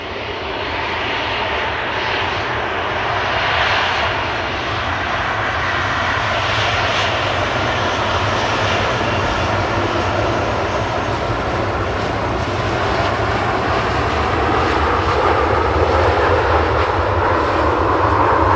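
A small business jet at Manchester Airport, a steady, loud engine roar that holds constant and close for the whole stretch, with no voices over it.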